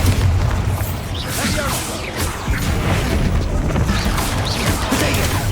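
Bombarda spell blasts in Hogwarts Legacy during a spider fight, a dense run of loud booming bursts and crashes stacked over busy battle noise, with a voice calling out over the din.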